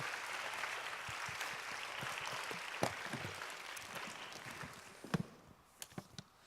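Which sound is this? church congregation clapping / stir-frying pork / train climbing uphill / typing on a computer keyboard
church congregation clapping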